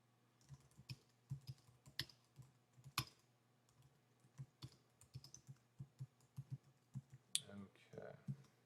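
Quiet, irregular clicking of keys on a computer keyboard as blog post text is typed, soft individual taps with short pauses between bursts, heard alone at low volume.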